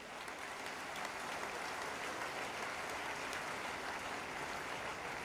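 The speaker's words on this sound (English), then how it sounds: "request you to clap for yourselves" An audience at an induction ceremony applauds themselves, a dense, even roar of many hands clapping at constant loudness from start to finish, with no talk over it.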